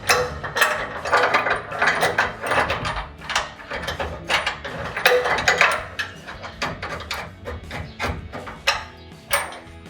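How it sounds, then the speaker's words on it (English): Rapid ratchet wrench clicking while tightening bolts on a Barricade HD off-road rear bumper on a 2020-2023 Silverado 2500, loud, close bursts of ratcheting strokes in quick rhythm. "Wrench on the back side and the ratchet on."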